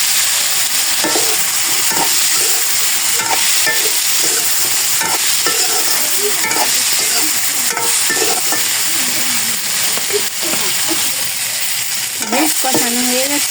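Beans fry in a pan with turmeric powder and dried chillies, giving a loud, constant sizzle with intermittent scraping and stirring sounds close by.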